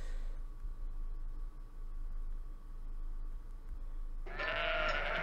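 Sheep bleating in a math-puzzle video game, a loud close bleat bursting in near the end after a stretch of quiet electronic hum.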